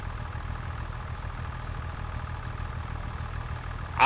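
A tractor engine idles steadily in Farming Simulator 25, a constant low mechanical drone with no change in pace, ending in a brief louder burst.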